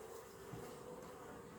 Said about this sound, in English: there's still lots of bees out